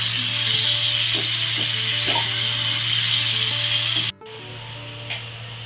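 Close, loud sizzling and scraping as minced mutton is stirred in a hot pan, a steady fry with spatula rubs that stops abruptly near the end, leaving a quieter hiss.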